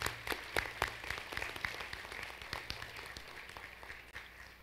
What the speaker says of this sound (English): Let's give our scholars a round of applause once again.